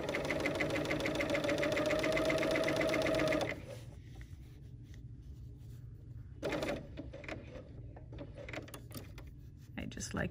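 A Bernina L 850 overlocker runs fast and loud while sewing a flatlock seam, a dense mechanical whir that stops partway, leaving softer handling clicks and brief bursts of stitching.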